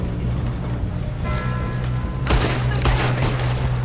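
Gunfire rattles through a Red Dead Redemption 2 firefight, overlapping shots and crackling reports over a constant low rumble, moderately loud with a couple of stronger bursts.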